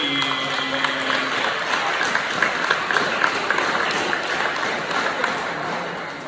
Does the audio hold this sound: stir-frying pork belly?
no